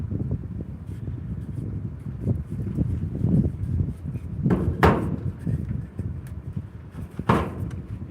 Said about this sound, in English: Is the wind unbearably distracting?